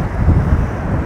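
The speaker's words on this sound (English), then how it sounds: "But it's really windy, so I'm going to try." Strong wind buffets the microphone outdoors downtown on a late fall morning, a loud, steady low roar with gusty swells throughout and no voices.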